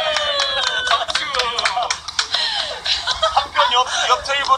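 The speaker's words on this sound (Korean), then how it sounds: "박수." A few people clap sharply and irregularly at a table during an Instagram live stream, close-up hand claps mixed with excited voices and laughter.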